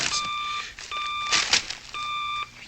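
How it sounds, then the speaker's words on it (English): Electronic bat phone signal beeping in bursts: three long two-tone electronic beeps separated by short gaps, loud and close, with faint background noise between them. "Commissioner Gordon's trying to get to us on the bat phone."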